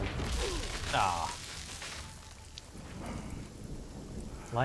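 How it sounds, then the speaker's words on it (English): A thunderstorm rumbles in the RuneScape Dragon Wilds video game, with low thunder and steady rain hiss plus a few brief sharp accents, moderately loud throughout. "Lightning all over the place."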